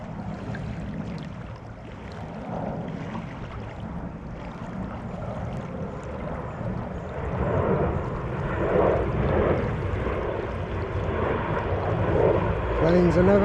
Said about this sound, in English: Planes are never far away here